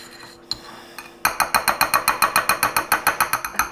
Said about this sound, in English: We're just going to go ahead and mix that together just like that.